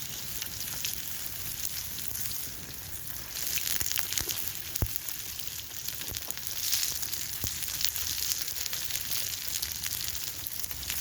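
Onion and potatoes frying in a pan over an outdoor campfire, a steady soft sizzle with occasional sharp crackles and pops, fairly quiet and close with no talking.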